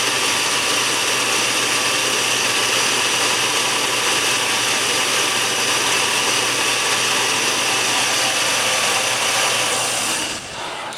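A car engine idles after its idle setting was adjusted, giving a loud, steady drone with an even hum that holds throughout and dips slightly just before the end.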